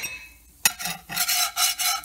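A utensil scrapes across a smoothed cast iron skillet. After a quiet start, a sharp contact leads into several raspy rubbing strokes, close and fairly loud.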